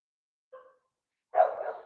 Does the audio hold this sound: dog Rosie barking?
yes